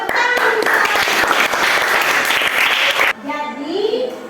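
Students in a classroom break into a short burst of dense clapping for about three seconds, then it cuts off and a voice speaks.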